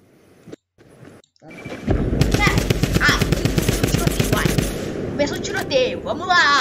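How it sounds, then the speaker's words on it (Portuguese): A gunfire shootout plays from a video: sustained rapid automatic bursts, loud and dense, follow a few quiet moments and a brief voice, then fade into scattered shots. "Começou o tiroteio."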